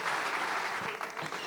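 A crowd at a live comedy stage show in Rwanda claps in a sustained, loud burst of applause that thins slightly toward the end, with a few voices faintly mixed in.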